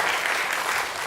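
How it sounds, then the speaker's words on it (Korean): A church youth group congregation in Korea claps together in a dense, steady round of applause that carries through the whole moment. "우리 임원들한테 박수 한번 쳐주세요"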